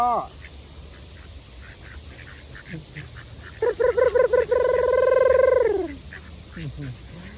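Domestic ducks quacking at a rural duck-raising spot in Thailand, a few short calls followed by a loud run of rapid, close quacks.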